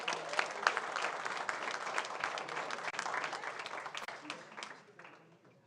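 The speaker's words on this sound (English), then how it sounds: "Give her a round of applause." A school district governing board meeting audience applauds, a dense patter of many hands at moderate level that thins and fades out toward the end.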